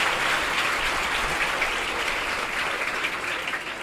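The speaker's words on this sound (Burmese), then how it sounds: "အားကောင်းပြီဗျာလက်ခုပ်တီးအားပေးပါဒါနော်" A crowd claps continuously during a Buddhist sermon on laziness and discipline, a steady wash of applause that holds its level and eases slightly toward the end.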